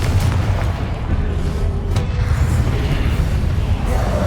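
A Confringo fire spell detonates in the Hogwarts Legacy video game: a loud, deep boom that swells into a sustained rumbling blast lasting several seconds.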